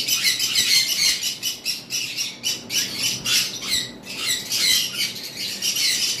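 Sun conure parrots, a tame breeding pair, squawk in loud, shrill bursts that repeat almost without pause, harsh and close, with no talking.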